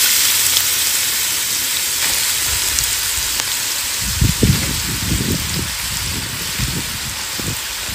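Oil heating in a pan before potatoes go in to fry, a steady broadband hiss like light rain running throughout, with a few louder clattering bursts of kitchen handling midway.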